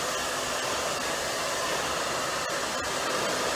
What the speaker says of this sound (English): Now, I'm going to take this blow dryer,